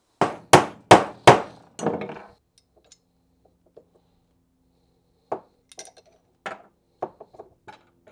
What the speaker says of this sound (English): drift it out with a hammer